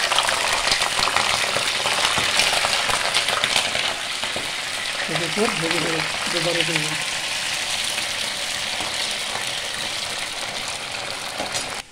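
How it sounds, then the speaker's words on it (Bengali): Flat beans dropped into hot oil for a pickle, giving a loud, continuous, crackling sizzle that fills the whole stretch. A brief voice murmurs faintly underneath midway. "তেল গরম হয়ে গেছে, এবার সিমটা দিয়ে দেবো।"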